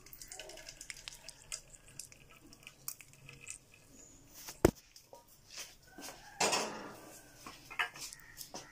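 Golden caramel syrup poured from a pan into a pudding vessel, heard as quiet scattered clinks and scrapes of metal cookware with a brief sharp knock midway and a short liquid rush near the end.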